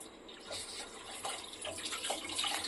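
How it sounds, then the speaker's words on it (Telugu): Water runs steadily as it is poured onto cooked dal, a continuous soft splashing stream that stays level in loudness throughout, with no talking over it. "పప్పుకి తగ్గట్టు నీళ్ళు పోయండి"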